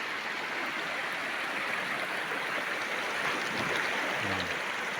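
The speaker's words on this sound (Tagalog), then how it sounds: "Ganda ng ilog din dito." A river stream flows near Carigan falls in a forest, a steady broad rushing of water filling the scene, fairly faint and continuous, with no talking.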